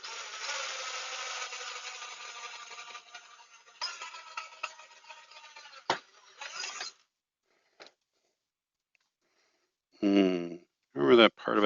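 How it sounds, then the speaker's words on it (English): A power drill bores quarter-inch holes for external antennas in a Netgear Orbi LBR20 router case, a grinding whir for several seconds, then brief bursts and pauses, with people talking near the end. "So, now we'll drill our other holes."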